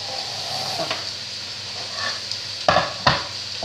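Onion frying in a pan for pork-rib plov gives a steady close sizzle, broken by two sharp stirring scrapes near the end; no one talks.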